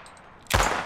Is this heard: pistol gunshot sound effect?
yes